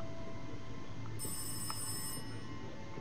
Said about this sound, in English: Hear a phone call.